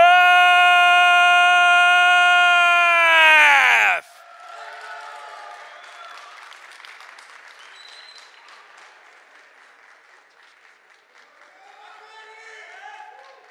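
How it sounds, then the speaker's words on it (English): After a loud sustained horn-like tone cuts off, a crowd at an eFootball World Cup final in Riyadh applauds and cheers steadily, fading somewhat over several seconds. "make some noise for Saif!"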